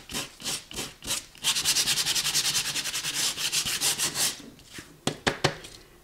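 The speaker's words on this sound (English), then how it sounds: "So I'm going to go a little bit deeper in the sanding" Close, rhythmic sandpaper strokes rasping back and forth on a painted cereal box, a few slow rubs, then a quick steady run of scrubbing, ending with scattered strokes.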